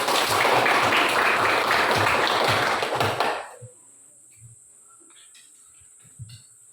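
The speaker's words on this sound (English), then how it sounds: "please give applause for all of you" Applause from a group at a classroom-style activity session, a dense burst of clapping that fills the first three seconds and then cuts off abruptly, leaving a few faint scattered knocks in near silence.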